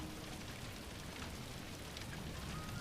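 Rain falling in a forest, a faint, steady wash of dense patter with no breaks, heard alone.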